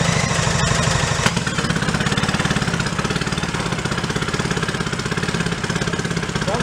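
A 1937 boat motor that sat sixty years in a shed runs steadily, its loud, close engine chugging in a fast even rhythm throughout with a brief sharp knock near the start.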